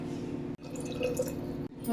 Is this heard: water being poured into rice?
yes